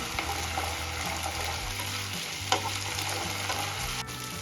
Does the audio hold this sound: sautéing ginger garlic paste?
yes